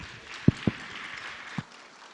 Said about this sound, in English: One round of applause for him.